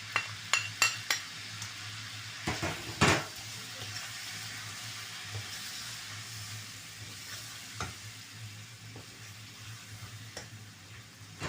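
Chicken pieces fry golden in a pan as spices go in, a constant soft sizzle running under a few sharp clatters from a spoon stirring against the pan early on.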